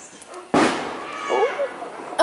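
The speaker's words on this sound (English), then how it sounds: "fireworks right now. They're loud." A sharp, loud firework bang in a residential neighborhood on the Fourth of July, followed by a rumbling echo and crackle, with a second burst at the very end.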